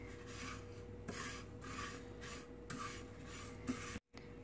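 Steady dry scraping and rasping from a spoon stirred through fennel seeds dry-roasting in a pan over a low flame, in repeated strokes of about a second with brief pauses, close and continuous.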